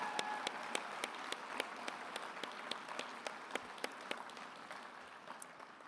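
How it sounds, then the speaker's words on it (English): An audience gives a round of applause at a speaking event, steady dense clapping with sharp individual claps standing out, moderately distant and continuous throughout. "they deserve another rousing round of applause"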